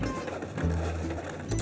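A Cricut cutting machine slicing doormat material, a close mechanical whirring with shifting motor pitches and short stepping pulses over under two seconds, with no talk.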